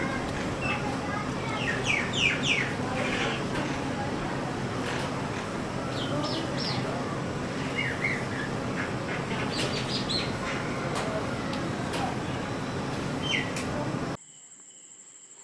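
A common myna calls outdoors in a varied run of chirps, whistles and chattering notes, repeated in clusters over a steady background of insects and other birds. The calls stop abruptly near the end.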